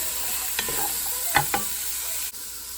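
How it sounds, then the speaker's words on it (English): Onions, garlic, celery and carrots sizzle steadily in a pot over medium-high heat, with a few sharp scraping clicks of stirring, close and moderately loud, no talking. "I just have that on a medium-high heat, and I'm going to stir it pretty frequently and let it cook for about 5 minutes"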